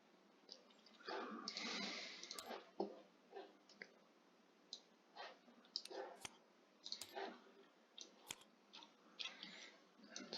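Cards for the Arkham Horror card game being shuffled, giving a run of quick, fairly close clicks and riffling ticks spread across about ten seconds with no talk.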